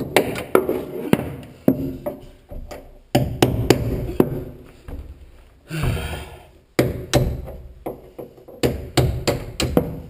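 Wooden dowels hammered out of an armoire, a series of sharp knocking blows in irregular bursts with short pauses, close and loud, no talk.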